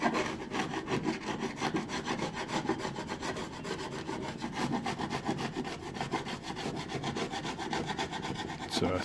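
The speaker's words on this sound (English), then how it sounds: "So I'm scraping this off with a chisel gently." A chisel scraping old tape line off the gel coat hull of a skiff, with fast, steady back-and-forth rasping strokes that continue nearly without pause, close up and alone.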